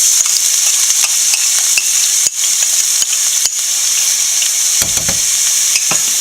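Crushed onions, shallots and garlic hit hot oil with mustard seeds for a yam stir-fry, giving a loud, constant sizzle up close, broken by a few sharp clicks and scrapes of stirring.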